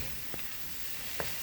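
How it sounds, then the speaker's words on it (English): Shrimp sizzling in a pan with pineapple fried rice: a steady, close hiss of frying broken by two short scraping stirs, with no voices. "Gonna add the shrimp back in."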